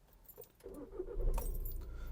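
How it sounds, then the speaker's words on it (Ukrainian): Keys jingle, a starter cranks briefly, then the 2.0-litre TDI diesel engine of a 2010 Skoda Octavia A5 catches and settles into a low, steady rumble nearby. "Заводиться автомобіль дуже легко, двохлітровий дизельний"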